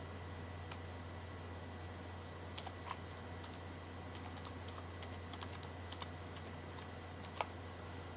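Fingers tap quietly on a computer keyboard, scattered irregular clicks over a steady low hum of room or computer noise, with no voices.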